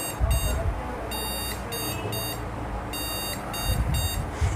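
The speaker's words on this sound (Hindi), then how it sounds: "यहाँ पर बजर ने बीप देना चालू कर दिया" A computer motherboard's buzzer sounds a POST beep code of one long beep and two short ones as the machine is powered on with a debug card fitted. Clear repeating electronic beeps play over low background hum, with a voice talking quietly.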